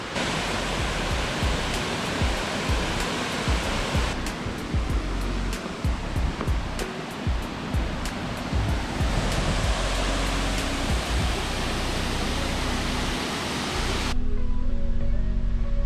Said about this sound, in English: We've just found one very big waterfall. It's 88 meters